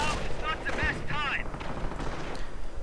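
Rapid gunfire and mortar explosions from a World War II strategy video game, a loud, dense battle din with bursts of shots and heavy booms, with a commentator talking over it.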